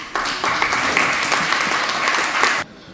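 An audience at a school debate in Jamaica applauds a speaker, a dense burst of clapping lasting a few seconds before cutting off abruptly to near quiet.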